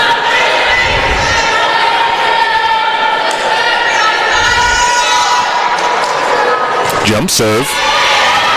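A gym crowd at a college volleyball match between Tampa and Embry-Riddle cheers and murmurs steadily throughout, under continuous play-by-play commentary, with a few dull thumps near the end.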